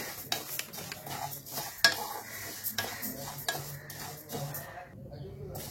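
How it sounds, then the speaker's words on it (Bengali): Moong dal dry-roasting in a hot kadai for sabu khichuri, with a rattling scrape and clatter of a spatula stirring the dry lentils in irregular strokes over a light sizzle, close up, then quieting. "মুগ ডালটা একটুখানি হালকা হাতে ভেজে নিতে হবে"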